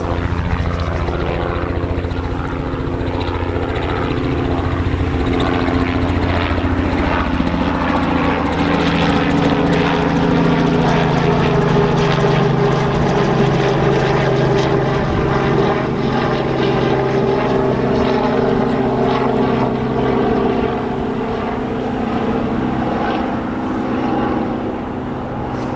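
An Air France aircraft at Newcastle Airport gives a steady, droning engine roar at moderate distance, slowly shifting in pitch and holding at a fairly constant level, with no talk over it.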